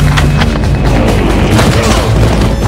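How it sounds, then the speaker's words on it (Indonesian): A loud, booming gunshot blast in the dense, loud soundtrack of the action film Nobody (2021), with heavy rumbling that fills the whole clip. "ia pun mengakhiri mereka semua dengan sebuah tembakan luar biasa"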